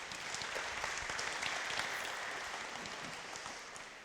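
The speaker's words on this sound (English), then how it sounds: "Round of applause, please, everybody." Audience applause in a hall, steady dense clapping held at an even level for about four seconds, fairly distant and softening slightly toward the end.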